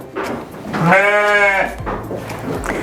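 Young lambs, around six weeks old and still nursing, bleat in a colony pen shared with their mothers, with one loud, close, wavering bleat lasting about half a second over a noisy barn background.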